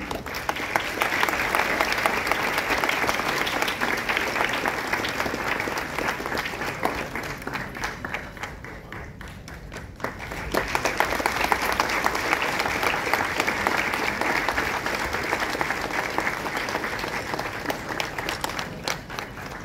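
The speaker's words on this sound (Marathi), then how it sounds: "जोरदार टाळ्या" Sustained applause fills the hall at a Marathi theatre lifetime-achievement award ceremony, many hands clapping evenly, dipping slightly midway before swelling again and running on at an even level.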